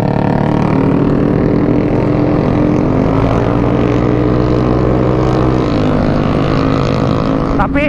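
Yamaha Aerox scooter with an aftermarket exhaust revving loudly up close, a raw throaty drone holding steady with rising and falling pitch throughout.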